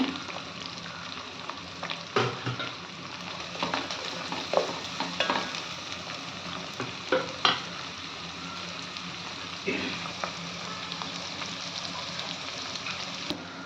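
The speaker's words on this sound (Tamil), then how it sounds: "போட்டு நல்லா ரெண்டு நிமிஷம் வதக்கிடுங்க" Onions sizzle steadily in a hot pan for Kashmiri pulao, with occasional scraping stirs and soft crackles over a constant frying hiss, close up.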